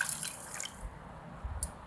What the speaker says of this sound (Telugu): అందులో కొన్ని వాటర్ పోసుకోవాలి.